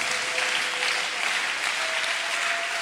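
Applause from a church congregation, a steady dense wash of clapping hands holding evenly throughout with no voices standing out.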